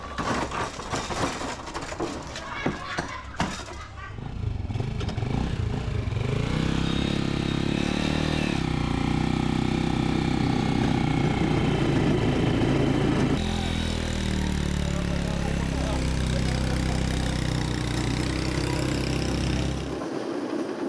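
A motorcycle engine drives a moto brujita, a wooden-based rail cart on steel bearings in rural South America. It drones loud and steady after a brief opening clatter, then cuts out at the end.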